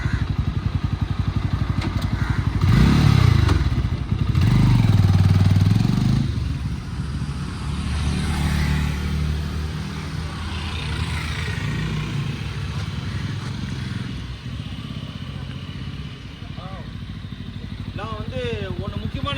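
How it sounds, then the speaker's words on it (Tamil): A reverse-enabled motorised vehicle for handicapped riders is driven and turned, its low motor hum and occasional rattles running steadily beneath someone talking throughout, with a louder surge early on. "இப்போ நான் லைட்டாக போய் வண்டி திருப்பிட்டு வந்துடுறேன்"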